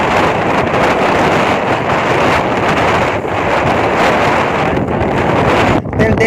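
Strong, constant wind buffeting the microphone outdoors over open water, a loud roaring rush with no letup.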